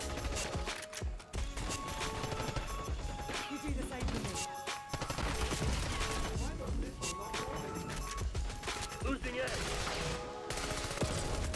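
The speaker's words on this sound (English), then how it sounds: "I'm literally firing my weapon." Rapid bursts of AS VAL rifle fire in Black Ops 6 crackle through a busy, layered game mix, with faint voices mixed into the action.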